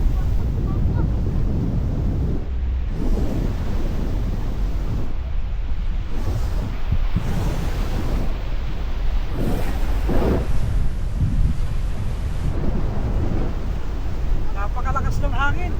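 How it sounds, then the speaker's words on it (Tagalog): Strong wind buffets the microphone on an island beach, a steady loud roar of gusts with waves and surf blended underneath throughout. "Napakalakas ng hangin."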